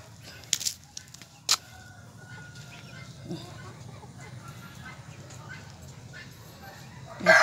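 Rhode Island chickens kept in a backyard, with a few short, sharp calls early on and a louder burst at the end over a steady, faint outdoor background.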